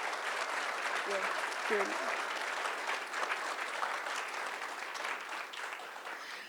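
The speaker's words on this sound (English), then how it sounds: "let's give a huge round of applause to our Hobby Shop of the Year winner" A crowd at a trading card game seller gathering applauds the Hobby Shop of the Year winner, steady dense clapping throughout with a brief voice underneath.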